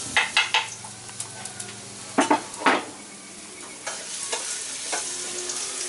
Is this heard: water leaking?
no